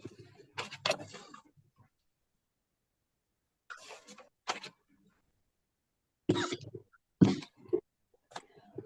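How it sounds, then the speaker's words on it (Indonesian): A child coughs in short bursts during an online maths lesson: a few separate coughing fits spaced by quiet gaps, close and moderately loud, with no talk. "Minum dulu, nak, kalau batuk."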